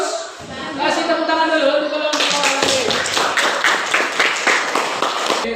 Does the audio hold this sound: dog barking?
no